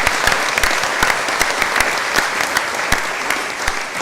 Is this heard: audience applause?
yes